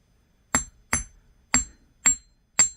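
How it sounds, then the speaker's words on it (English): A chasing hammer flattens a small metal bracelet piece. Five sharp, ringing metallic taps come at a fairly even pace, each one close and distinct against near silence. "we're going to hammer this piece. And I'm going to use my chasing hammer"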